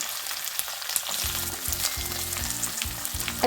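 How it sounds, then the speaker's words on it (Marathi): Chopped onion sizzles in hot oil with garlic cloves and finely cut green chilli for a tomato chutney, a steady frying hiss with repeated low scraping stirs, close and with no voices. "छान पारदर्शी होईपर्यंत आपल्याला याला परतून घ्यायचं आहे"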